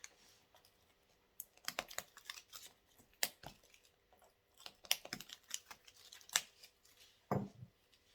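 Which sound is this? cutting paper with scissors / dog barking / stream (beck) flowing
cutting paper with scissors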